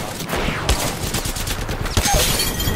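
Mozambique shotgun blasts from Apex Legends gameplay, a few sharp shots punching through a dense, busy wash of game noise and rapid firing, fairly loud and continuous throughout.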